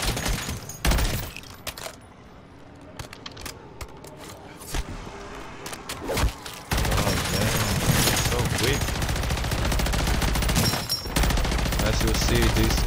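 BP50 rifle fire in MW3 Zombies, with bursts of sharp shots at the start, then sustained rapid automatic fire rattling loudly and continuously through the second half, with brief pauses between volleys.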